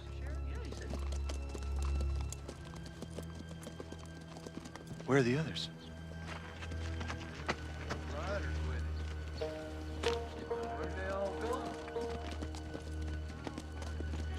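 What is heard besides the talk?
horses trotting, hooves clip-clopping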